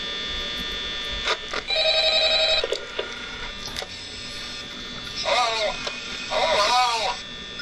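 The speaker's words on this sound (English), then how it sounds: "Phone's ringing." A ringing telephone in the horror video game Five Nights at Freddy's sounds in repeated electronic bursts over a steady room hum, with some background speech.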